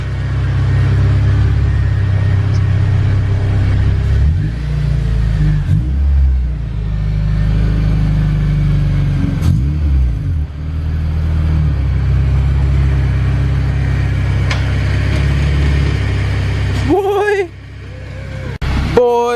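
A Honda Integra with an H2B engine swap, after two months sitting in a garage, rumbles at a steady low idle close by as it is moved out, with brief revs partway through and a few voices at the end.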